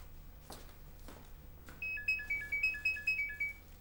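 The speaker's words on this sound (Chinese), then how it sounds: "电话，你的。" A mobile phone ringtone starts after a couple of soft thuds: a bright electronic melody of quick repeating beeps in a steady rhythm, fairly loud and close, indoors at home, with no talking.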